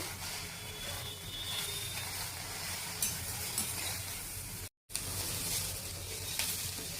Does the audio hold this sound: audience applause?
no